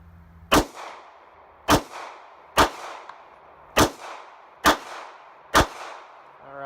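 Six sharp, loud gunshots from a Smith and Wesson BodyGuard BG380 pistol at a shooting range, fired at a steady pace about a second apart, each with a short ringing decay and no talking.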